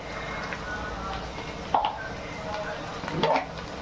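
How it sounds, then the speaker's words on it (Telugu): Ginger paste fries in oil in a pan, giving a steady low sizzle with brief stirring scrapes and a couple of louder bursts, with no talk. "అల్లం పేస్ట్ వేగిపోయింది ఫ్రెండ్స్."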